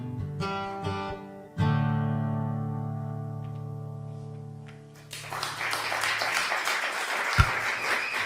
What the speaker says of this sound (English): I wanted to make sure to include that applause because that's such a great song.